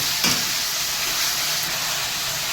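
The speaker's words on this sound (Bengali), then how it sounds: "মশলা দিয়ে একটু কষাতে নিই" Spice paste of chilli, garlic and ginger fries in oil for a Bengali fish curry, a steady close sizzling hiss running unbroken throughout with no talk.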